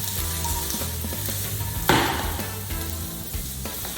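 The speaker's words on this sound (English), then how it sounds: "let that saute for a couple minutes until it gets just a little bit of color" Broccoli, peppers, carrots, mushrooms, sugar snap peas and tofu sauteing in a pan for a stir fry, a steady close sizzle with a louder burst of frying and clatter partway through as the vegetables are tossed.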